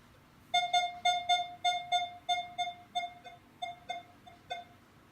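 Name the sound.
Minelab Equinox 600 metal detector beeping in dime air test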